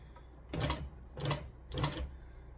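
A sewing machine stitches reverse appliqué close to the edge of a side panel, running slowly in three separate short bursts of whirring stitches with brief pauses between.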